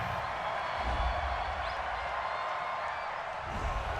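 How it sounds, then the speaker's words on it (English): Stadium crowd at an NFL Wild Card playoff game between the Los Angeles Rams and Chicago Bears reacting to a penalty flag on third down, a steady, loud, broad roar of many voices with no distinct claps or cheers standing out. "this crowd does not like that call"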